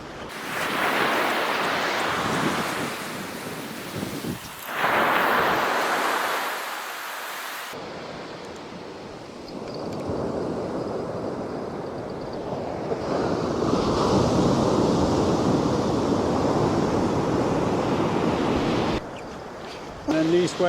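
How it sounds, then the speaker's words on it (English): Sea waves break and wash up Sunnyside Beach in Scotland, loud and close, with wind gusting across the microphone, the surf swelling and easing in long surges. "these waves now are coming well in"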